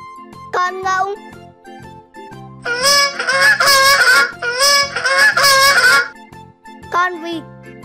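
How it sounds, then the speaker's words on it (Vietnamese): Geese honk loudly in two long, overlapping bursts of harsh, nasal calls, with a voice speaking briefly before and after over soft background music. "Con ngỗng."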